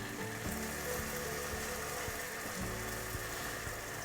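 Soft, steady sizzling and crackling close up as hot jalebis go into sugar syrup, a continuous fizzy hiss with faint background music underneath, no talking.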